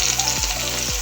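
Marinated whole fish frying in hot oil, a loud steady sizzle and crackle close up with no talking.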